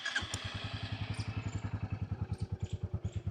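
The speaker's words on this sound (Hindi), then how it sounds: "अब मैं आपको जो नई बुलेट 350 है उसका एक बार एग्जॉस्ट नोट फील करवाता हूँ।" A Royal Enfield Bullet 350 motorcycle idles close by with a deep, steady thumping exhaust beat, evenly paced pulses after a brief start-up clatter.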